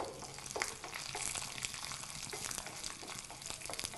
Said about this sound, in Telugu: ఎండుమిర్చి మిరియాలు అలాగే మినపప్పు ఈ మొత్తం కూడా కొంచెం బ్రౌన్ కలర్ వచ్చేంత వరకు వీటిని వేయించుకుందాం